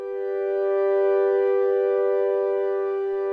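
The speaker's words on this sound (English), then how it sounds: "There's the stereo mode, which will spread the sound in the stereo field like that," An Ableton Drift synth patch in stereo mode holds a steady, bright sustained tone, spread wide across the stereo field for about three seconds, with no talking.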